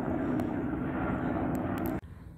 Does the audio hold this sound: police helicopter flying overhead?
yes